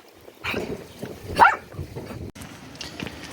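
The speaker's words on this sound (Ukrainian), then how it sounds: "Собака?" A dog barks a few times nearby, short sharp yaps scattered over soft background noise, with one louder bark in the middle.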